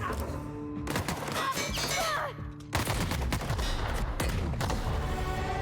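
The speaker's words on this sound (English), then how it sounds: "Ooh, I like this grenade launcher" Grenade launcher fire in the video game The Outer Worlds, a run of loud repeated blasts and crashing impacts with dense booming debris, briefly dipping before another burst of explosive shots.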